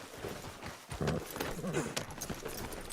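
Horse hooves clip-clop at a steady run in Red Dead Redemption 2 on PS4, close and continuous, with faint voices underneath.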